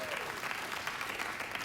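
A late-night talk show studio audience cheers and claps steadily, a dense, moderately loud wash of applause with a voice faintly underneath.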